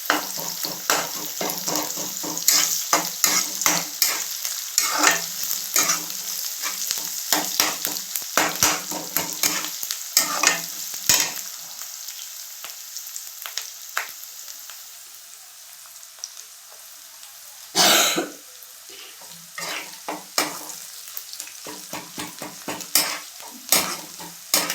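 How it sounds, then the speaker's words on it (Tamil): Eggplant curry sautéing in oil while a spoon scrapes and clatters rapidly against the pot, busy stirring for about twelve seconds, then a quieter sizzle with scattered utensil knocks and one brief louder burst. "நல்லா வதங்கட்டும் கொஞ்ச நேரம்"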